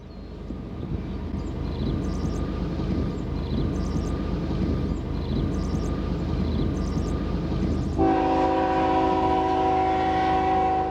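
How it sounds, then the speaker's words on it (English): An empty BNSF coal train led by eight locomotives rumbles past close by with a steady roar and clanking wheels, then a loud multi-tone horn blasts and holds over the noise. "8 units leading up this seemingly overpowered empty coal train"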